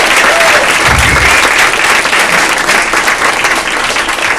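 A comedy club audience breaks into loud, dense applause, many hands clapping steadily and close for the whole stretch without pause.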